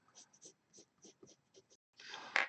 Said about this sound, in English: These are all F pencils